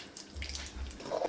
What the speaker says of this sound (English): we're gonna add in a little pasta water we save back